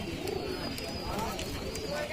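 Pigeons coo softly at the Kumarkhali pigeon market in Kushtia, faint and brief, under the chatter of people talking close by.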